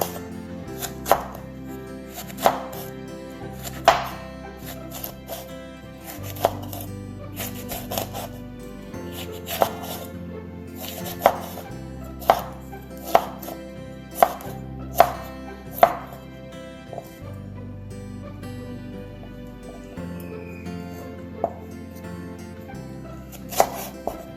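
A knife cuts jalapeno on a cutting board, with sharp chopping knocks at an uneven pace over a soft scraping and rubbing bed. The taps are close and clear, and no voices are heard.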